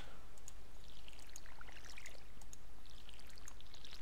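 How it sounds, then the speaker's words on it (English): Watering can pouring over crops in the Stardew Valley video game, a steady splashing stream with scattered droplet patter, running continuously and fairly close. "Once you upgraded the watering can, you can water multiple plant areas."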